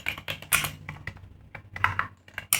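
Rapid, irregular keystrokes on a computer keyboard while Python code is typed, close and crisp, coming in uneven bursts with short pauses and no voices.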